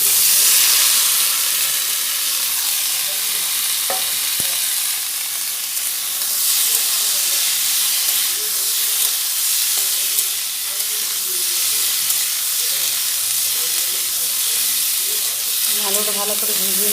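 Potatoes frying in a pan for Bengali potato chop, a continuous close hiss and sizzle with occasional clinks and stirring sounds, plus faint murmuring in the background.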